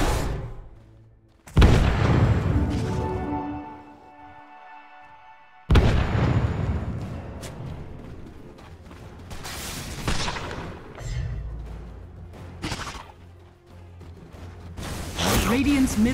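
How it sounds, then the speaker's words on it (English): A tower comes under attack in the video game Dota 2, with loud, chaotic bursts of booms, impacts and ability effects, separated by quieter stretches and layered with tonal game sounds. "Radiant's middle tower is under attack."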